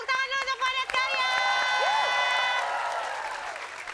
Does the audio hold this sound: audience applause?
yes